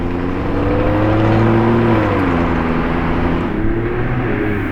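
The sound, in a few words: Lamborghini Performante engine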